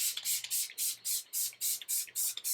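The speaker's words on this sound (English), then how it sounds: "So now I'm going to set my makeup using the new Smashbox Photo Finish Primer Water in Serene Greens." A Smashbox Photo Finish Primer Water setting spray is misted onto a face in about nine quick, even bursts, each a short hissy spritz in a steady rhythm, close and clear.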